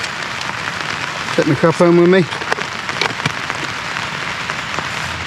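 Rain drums steadily on a tarp shelter outdoors, a dense, continuous close patter filling the whole stretch, with someone speaking briefly over it.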